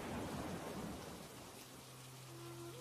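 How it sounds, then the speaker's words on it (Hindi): Heavy rain pours steadily in a jungle during the rainy season, a dense continuous hiss with a low rumble of thunder underneath, close and loud with no voices. "जोरों से बारिश हो रही थी"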